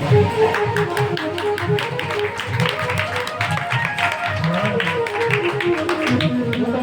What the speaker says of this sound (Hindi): जरा ताली बजाओ ना इन लोगों के लिए